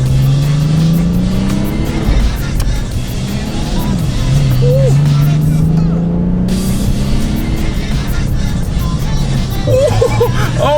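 A Nissan 370Z's engine roars steadily under hard acceleration, pitch climbing and loud, heard from inside the car as people talk over it.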